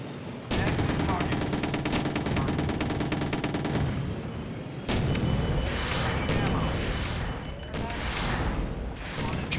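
Heavy machine gun and HE cannon fire in the video game Empires Source Mod on a snowstorm map, dense rapid bursts of gunfire with booming cannon blasts, loud and continuous with brief pauses.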